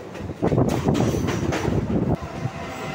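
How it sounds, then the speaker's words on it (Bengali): A train rumbles along the Kolkata Circular Railway line with a continuous rolling roar, some clattering of the wheels and wind buffeting close to the microphone. "আমাদের ট্রেনের সঙ্গে শিয়ালদহ গেদে লোকালের প্যারারেল রেস চলছে"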